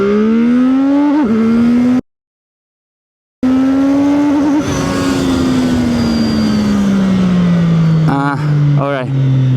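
A CFMOTO 675NK motorcycle launches hard, its loud engine note climbing through rising gear pulls with a brief cut and a later shift, heard up close under wind noise.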